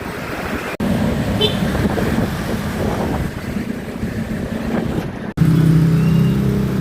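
Road traffic in Guadalupe rumbles steadily nearby, with engine noise and heavy wind buffeting the microphone, broken by a couple of abrupt cuts.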